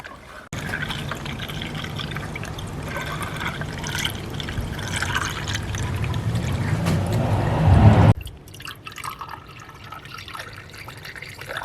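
Coolant pours into the reservoir tank of a Jeep Cherokee after a water pump replacement, a steady liquid gurgle and fill that builds for several seconds, then stops abruptly, leaving faint dripping and handling noises.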